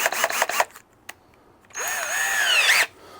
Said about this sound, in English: I'm using a special acrylic drill bit here